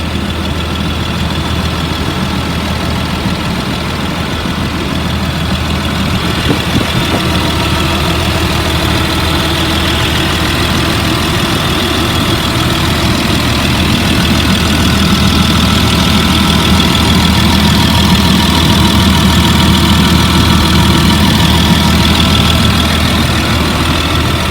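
Steady low diesel rumble of a 2004 Blue Bird All American 72-passenger school bus idling, a constant loud drone with mechanical knock and vibration throughout, no talking.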